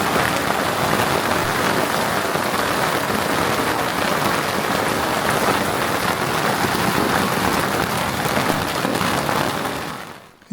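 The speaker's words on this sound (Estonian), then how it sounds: "ükskord sadas ankrualal vihma." Rain falls at an anchorage, a loud, dense, continuous patter and hiss on surfaces that holds steady for about ten seconds before cutting off abruptly, with no voices.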